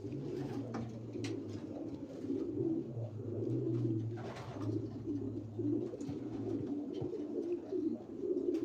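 Pigeons in a breeder loft cooing steadily, a dense, continuous murmur of low throaty coos from many birds at once, with no one speaking.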